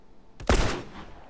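A single sharp gunshot from the video game Grounded, loud and close, with a quick burst and short decaying tail against a quiet background.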